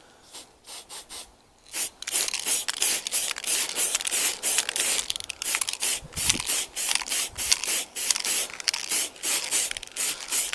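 An aerosol spray can lays a light paint coat on a Triumph Sprint 900 motorcycle part in a series of close, hissing bursts with short gaps between them.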